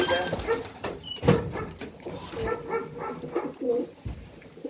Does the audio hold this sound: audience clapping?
no